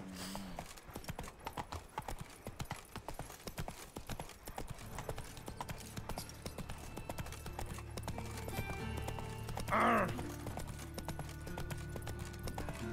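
Steady clip-clop of a galloping horse's hooves in The Witcher 3, close and rhythmic throughout, with a brief whinny near the end over a soft ambient bed.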